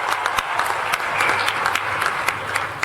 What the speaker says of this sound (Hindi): आप भी तालियां बजा के स्वागत कीजिए